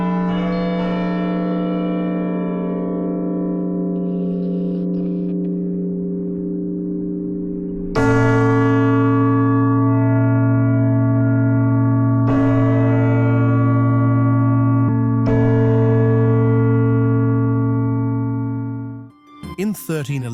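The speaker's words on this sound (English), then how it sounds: "In 1833, the massive bell, Great Tom of Lincoln, was installed in the central tower." Great Tom of Lincoln, the massive bell hung in 1833 in Lincoln Cathedral's central tower, sounds deep, loud, resonant strikes: a sustained hum, then three distinct tolls that ring on and overlap in long humming decay.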